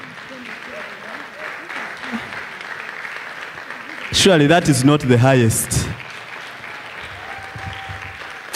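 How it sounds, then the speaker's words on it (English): An audience at the African Readers Conference 2022 claps throughout, a continuous patter of applause running under someone speaking loudly into a microphone. "clap hands for we are high, but part of our sponsors and partners"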